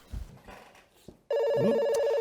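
A telephone bell starts ringing loudly and continuously partway through, after a short stretch of quiet, faint sounds.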